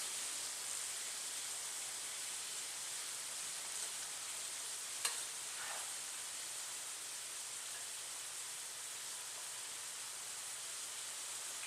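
Rice frying in a hot pan with a steady, soft sizzle throughout, broken once by a single brief scrape of the spatula as it is stirred.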